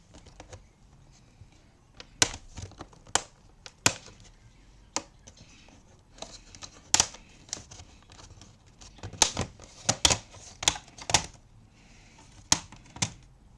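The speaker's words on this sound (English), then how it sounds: "Let's take out the keyboard." Sharp, irregular plastic clicks and snaps while the keyboard is pried out of a Dell Latitude E5550 laptop that has no power; close, isolated taps with quiet gaps between them.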